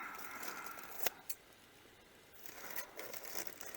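Fabric scissors snip through coffee filter paper for combustible cartridges: a faint papery rustle, a couple of sharp cuts near the middle, then soft crinkling snips toward the end, all quiet and close.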